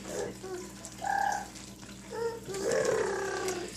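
Finished maple syrup runs through a hobby filter setup with soft wet trickling and gurgling, in a few intermittent bursts that swell and fade in a quiet room.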